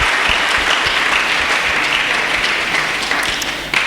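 A church congregation claps in dense, continuous applause that stays loud and close throughout, with faint voices mixed into the crowd.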